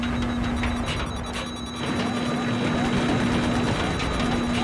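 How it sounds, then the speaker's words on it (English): Attack helicopter in a first-person shooter video game, a steady droning rotor hum running throughout at close range, mixed with dense battle noise and talk over it. "Attack chopper right in front of us"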